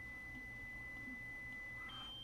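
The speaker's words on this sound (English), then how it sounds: "if you're ever pressing these buttons and you're hearing these beeps" A Proffie lightsaber sounds a faint, steady high electronic tone from its menu, holding evenly then shifting to a slightly different pitch near the end, quiet and alone.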